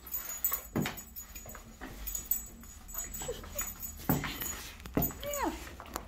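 A cocker spaniel whimpers and gives thin, rising yips over steady indoor background noise. The cries come in short scattered bursts, with a sharp high yelp near the end.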